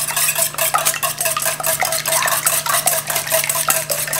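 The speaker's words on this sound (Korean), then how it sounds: "안에 재료들이 잘 섞일 수 있게 거품기를 저어주세요" Whisk stirring almond pound cake mix batter in a bowl, a continuous scraping swish with quick rhythmic strokes, close and fairly loud, no voices.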